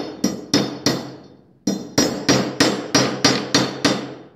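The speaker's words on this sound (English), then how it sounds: "Take your hammer." A hammer strikes a 1/4-inch drive socket, driving a burr down onto a rivet while installing a rider buckle: ten sharp metallic blows, three then a pause then seven in a steady rhythm, loud and close, each ringing briefly.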